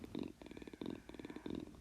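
A person imitates a cat's purr with their voice, producing a low rumbling rattle in three rhythmic breathy pulses, close and quiet.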